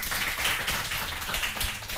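Studio audience at a French television quiz show clapping for a contestant, a short burst of dense, even applause.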